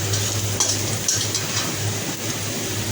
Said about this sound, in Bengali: তো এখন পেঁয়াজগুলো ভাজা প্রায় শেষের দিকে